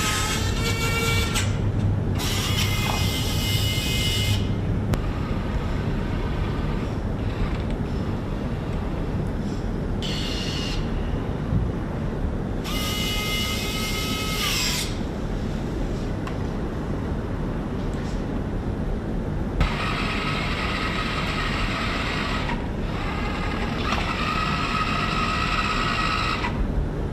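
A Roborock Saros Z70 robotic vacuum with its OmniGrip robotic arm gives off bursts of mechanical whirring and servo grinding, close by and repeated over a steady background hum, with no talking.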